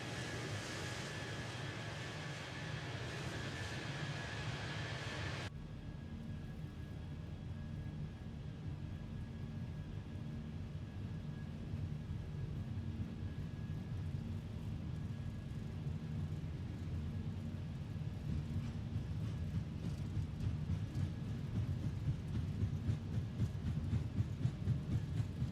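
An airliner rolls down the runway for takeoff in Microsoft Flight Simulator 2024 on a winter flight out of Manchester, with a steady low engine roar and rumble that builds gradually over the long roll.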